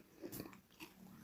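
A crunchy garlic-flavoured carrot stick snack is bitten with a few sharp, close crunches in quick succession, then a short chewing sound, with no talking.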